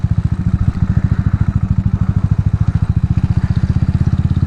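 A motorcycle engine idling close by in a fast, even, loud putter that swells slightly as it is revved gently, running steadily throughout with no talk.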